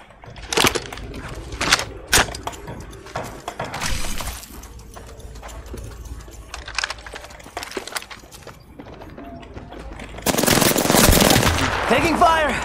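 Gunfire in the video game Apex Legends crackles in loud, rapid bursts with scattered single shots, then breaks into a dense, sustained stretch of shooting and shattering near the end.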